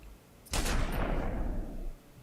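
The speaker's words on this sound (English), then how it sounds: "So many freaking point blank gunshots to the head in this movie." A burst of gunfire in the Batman v Superman movie, a sudden loud blast followed by a dense, roaring volley that fades after about a second and a half.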